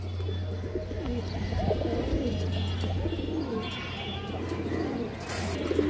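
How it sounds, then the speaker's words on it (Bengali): Old-breed Chhap Chila pigeons coo in low, repeated rolling calls close by, a steady layer of cooing beneath someone talking over it. "পুরান জাতের ছাপচিলা কবুতর, একদম 1100 টাকা মাত্র।"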